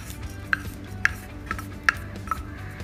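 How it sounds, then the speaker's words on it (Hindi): Grated dry coconut roasts in a dry pan after coriander and cumin, stirred with a spatula that scrapes and taps the metal in a regular rhythm about twice a second, close and moderately loud over a low background hum. "नारियल को सुनहरा होने तक भून लेते हैं।"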